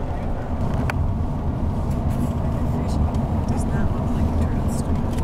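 Cars pass along a road beside a river, a continuous low rumble of traffic and road noise heard from fairly close, steady throughout.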